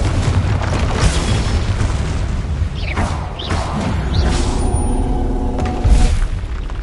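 Confringo spell blast in a Harry Potter video game, a loud booming explosion with a whooshing burst around the middle, set in a continuous dense roar of game effects.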